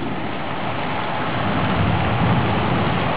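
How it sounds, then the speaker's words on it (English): Heavy rain pours steadily in a dense, continuous roar during a hot-night thunderstorm, with a low rumble of thunder swelling in the background. "this is a Wednesday night with a thunderstorm in a very, very hot day"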